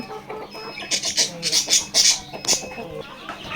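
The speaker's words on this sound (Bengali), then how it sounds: "এখানে পাঁচশো পিস টাইগার মুরগি রয়েছে" Tiger breed chickens on a poultry farm cluck in a busy, overlapping chorus of short calls, a few louder bursts standing out near the middle, with faint background voices.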